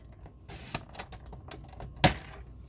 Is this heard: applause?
no